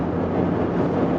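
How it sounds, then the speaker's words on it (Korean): Inside a Toyota Prius AWD hybrid cruising at high speed, a loud, steady engine drone holds beneath a broad wash of wind and road noise without letting up. "엔진 소리가 끝까지 살아나네요."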